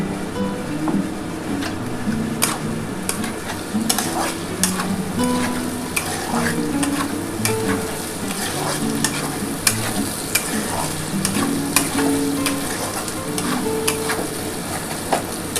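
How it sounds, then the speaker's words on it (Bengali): Capsicum sautéing in a pan for a paneer and potato curry, a steady loud sizzle broken by repeated scrapes and clacks of a spoon stirring. "এই যে দেখো বন্ধুরা এই ক্যাপসিকাম দিয়ে দিলাম। এটা একটুখানি ভালো করে কষিয়ে নিই বন্ধুরা।"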